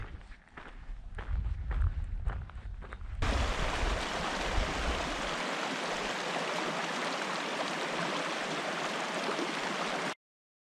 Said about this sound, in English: Got a creek off to our left.